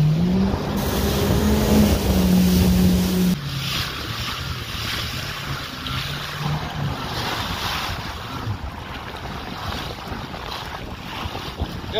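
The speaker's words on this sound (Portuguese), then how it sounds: "O mar deu uma engrossada na costa." Rough sea breaks along the coast in steady washes of surf, with strong wind buffeting the microphone and a boat engine droning nearby for the first few seconds.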